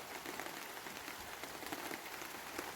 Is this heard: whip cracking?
no